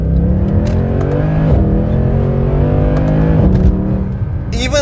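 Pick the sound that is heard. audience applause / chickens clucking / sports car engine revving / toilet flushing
sports car engine revving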